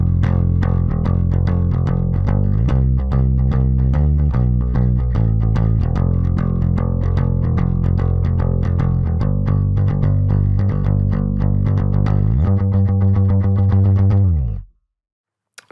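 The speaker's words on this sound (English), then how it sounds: "I'm just going to play the whole pre-chorus for you." Electric guitar run through effects plays a pre-chorus passage that starts on F and slides up to C, a dense, steady, sustained wall of chords with rhythmic accents, alone and loud, cutting off abruptly near the end.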